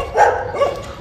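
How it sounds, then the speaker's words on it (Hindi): Dogs barking outdoors near a temple on Maha Shivaratri, two close, fairly loud barks in quick succession with no talk. "देखो कुत्ते ही भौंके जा रहे हैं।"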